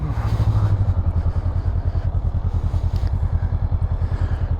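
A 2024 Honda SCL500 twin-cylinder motorcycle engine runs steadily up close with a throbbing low pulse, loud and continuous throughout, with no speech.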